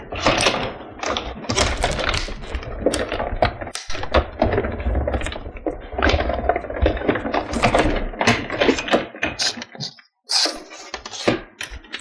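Paper frame pieces being run through a die-cutting machine for a Hungry Honey Bears stamp and die set, giving a busy, dense run of crisp clicking and crunching that is steady and close for most of the stretch, with a brief pause near the end.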